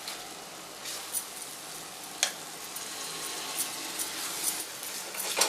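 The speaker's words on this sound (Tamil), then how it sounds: "இப்போ வந்து நம்ம தக்காளியும் போட்டுக்கலாம்." Tomatoes fry with sautéed onion, ginger and garlic for chicken biryani, giving a continuous close sizzle broken by a few sharp stirring clinks against the pan, with no speech.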